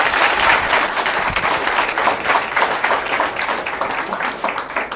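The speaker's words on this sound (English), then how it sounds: "Once we are done with the clapping part" Sustained, dense applause from a large university audience at a speech at LUMS, steady and loud throughout, with a faint murmur of voices underneath.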